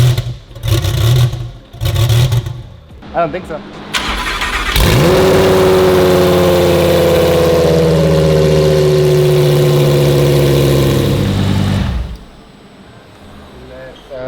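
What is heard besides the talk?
car engine with Valvetronic exhaust headers starting and idling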